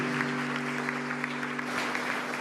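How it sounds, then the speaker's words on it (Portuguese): A church congregation at a Christmas cantata applauds, the clapping soft and fairly distant over a steady low hum in the sanctuary. "pode aplaudir a Jesus"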